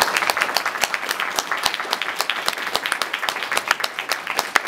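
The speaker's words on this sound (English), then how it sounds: "Let's give them a huge round of applause." An audience at an astronomy meeting gives a lively round of applause, with many distinct claps close by in a dense, uneven patter that carries on for several seconds.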